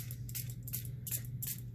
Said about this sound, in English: I can take my little mini mister or a spray bottle